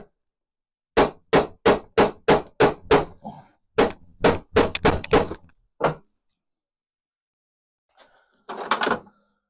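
Hammer tapping at a Mini convertible gearbox to knock it apart: a quick run of about eight sharp, evenly spaced blows, a pause, then another cluster of hits, loud and close, followed by a faint shuffle and a duller clatter.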